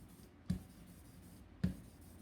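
Two short scraping passes of a brayer rolling lino printing ink across a slab, each a quiet hiss about a second apart, close and alone in a hushed room.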